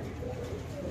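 Red Bombay pigeons coo softly and low, a brief, faint, murmuring call at a sale of the birds.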